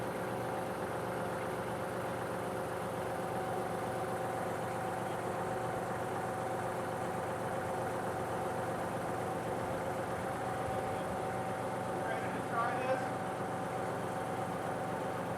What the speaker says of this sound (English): get on a tractor and lift and pull backwards